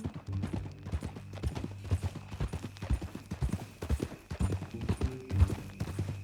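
Quick, uneven clip-clopping of horse hooves nearby in Red Dead Redemption 2, a rapid trotting rhythm with a low hum underneath.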